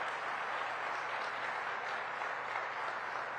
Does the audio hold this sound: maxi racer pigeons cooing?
no